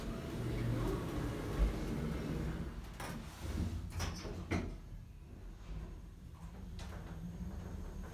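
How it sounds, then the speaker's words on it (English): Kone Monospace lift doors sliding shut in a shop at The Lexicon, Bracknell, a soft mechanical rumble and a few clunks over low background hum. "Doors closing."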